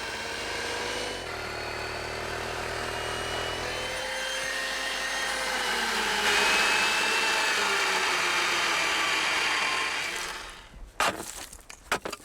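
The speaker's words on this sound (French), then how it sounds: "La tronçonneuse est utilisée avec précaution dans ce sol dur comme du béton" A chainsaw cuts into frozen Siberian soil as hard as concrete, with a loud sustained engine drone and shifting pitch under load for about ten seconds, before it cuts off and a few sharp knocks and clatters follow.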